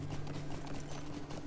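Rhythmic clip-clop of a horse's hooves in the Lord of the Rings Online game, steady quick footfalls at moderate volume over a low background hum, with no talking.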